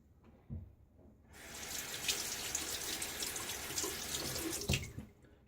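A bathroom tap runs steadily into a sink for rinsing after a shave, the water rushing in after a quiet moment and flowing on as a constant, fairly close splash.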